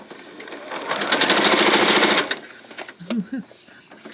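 A sewing machine runs in a fast, steady burst of stitching a quilt block for about a second and a half, then stops, followed by some light handling noises.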